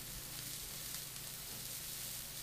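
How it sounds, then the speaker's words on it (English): Onion, garlic and mushrooms sautéing in a pan while a low-carb pumpkin soup is prepared, a faint, steady sizzle with a low background hum and no talk. "you just saute these until your vegetables are cooked"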